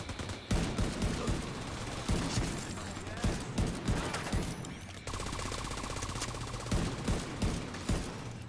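Repeated gunfire cracks in The Division 2, with single shots and short bursts fired at an irregular rhythm. The shots are loud and close over a constant game background, with a voice talking in places.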